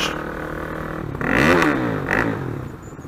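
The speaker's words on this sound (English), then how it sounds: "when the motorcycle exhaust is loud" A motorcycle engine revs up twice, swelling loud and then dropping back to a steady idle rumble nearby.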